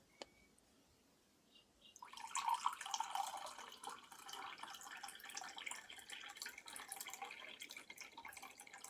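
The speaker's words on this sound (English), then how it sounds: "I'll pour some water on the wound." Water is poured onto a wound in a quiet indoor setting, beginning after a brief pause as a close, steady splashing and trickling that continues to the end with no talking.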